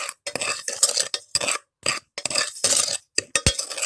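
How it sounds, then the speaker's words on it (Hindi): A spoon stirring sugar in a pan over low flame for sesame gajak, close, rhythmic scraping strokes against the metal bottom with brief pauses between them and no talking. "हमें चमचा चलाते जाना है इसमें"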